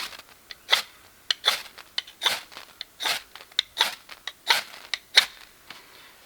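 A knife spine rakes backward along a ferro rod again and again, about a dozen sharp, bright scrapes in a steady rhythm, close and clear, outdoors in the woods.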